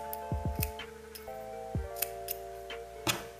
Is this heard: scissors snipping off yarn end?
yes